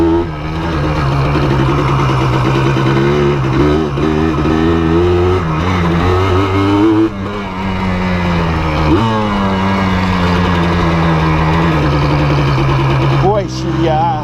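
A Yamaha Blaster ATV engine revs and accelerates loudly and close, its pitch rising and falling through gear shifts over a sustained roar, with someone talking over it.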